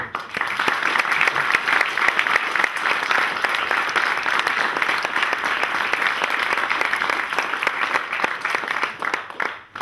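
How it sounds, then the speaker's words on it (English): An audience at a civil partnership gathering breaks into strong, even applause that holds steady for several seconds before tapering off at the end. "I'd just like to you all to join in strong applause for all of those people who I've mentioned"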